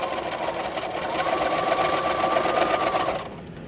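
A sewing machine zigzag-stitches across a pouch made from a snack wrapper, running in a steady, close, rapid mechanical chatter for about three seconds before stopping.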